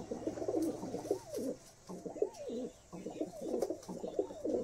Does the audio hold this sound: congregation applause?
no